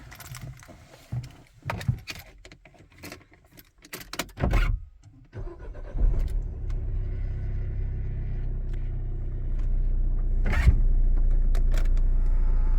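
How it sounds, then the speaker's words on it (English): Keys jangle and click in a Peugeot 308CC before the engine turns over, then a steady idling rumble settles in and grows slightly louder, with one sharp click partway through. "Start the car."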